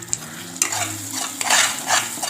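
Masala for prawn fry cooking in ghee with salt, stirred vigorously: a close, crackling sizzle punctuated by a few sharp scraping strokes of a spoon against the pan, with no voices.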